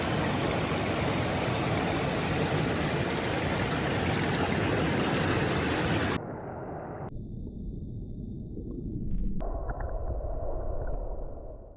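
A small mountain creek in brook trout country flows with a constant, full rush of water for several seconds, then the sound thins and shifts abruptly into quieter, muffled water and faint tones, with nobody talking.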